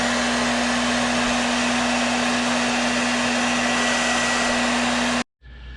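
A hair dryer heat-setting fresh paint on a square bill crappie fishing lure, a loud steady whooshing blow with a constant motor whine that runs for about five seconds and then cuts off abruptly.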